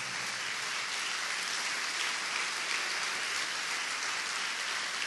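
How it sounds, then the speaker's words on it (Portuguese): Congregation applause in a church service, a continuous even hiss of many hands clapping at a distance, steady and faint throughout with no voices. "Uma forte salva de palmas a Jesus."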